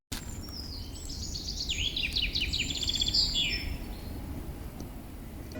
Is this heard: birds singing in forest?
yes